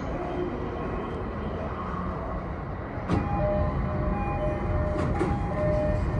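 A Sotetsu 12000 series train bound for Ebina rumbles low and steady, and after a sharp clunk the noise grows as it departs, with faint tonal whines joining later.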